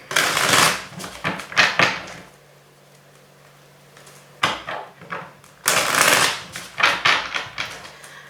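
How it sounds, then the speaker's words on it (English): A deck of tarot-style reading cards being shuffled, with bursts of crisp riffling and flicking near the mic in two clusters separated by a quiet pause, no talk. "Let me just give a quick shuffle here."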